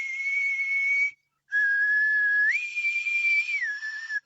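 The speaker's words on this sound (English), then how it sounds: "when I try to change the tone of my whistle" A single person whistles clear sustained tones, pausing briefly, then holding a note that steps up in pitch and slides back down.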